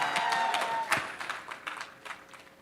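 Audience applause at a charity fundraising event, a steady wash of clapping from a crowd that fades and thins out over a few seconds, with some voices mixed in.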